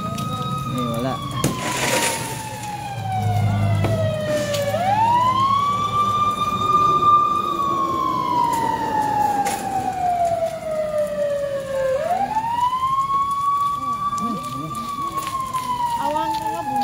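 A fire truck siren wails in long, slow rising and falling sweeps, carrying steadily over the road and engine noise around a bus travelling from Baguio toward Tuguegarao in the early morning.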